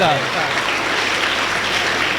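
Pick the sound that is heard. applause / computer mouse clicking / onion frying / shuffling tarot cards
applause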